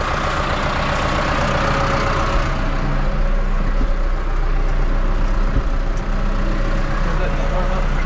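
A farm tractor's engine idles while warming up, a steady, close, low diesel drone with a constant hum that holds even throughout.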